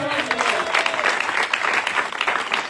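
A church congregation claps loudly and continuously in praise of God during a French-language sermon, a dense wash of applause with voices calling out over it.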